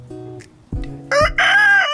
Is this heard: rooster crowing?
yes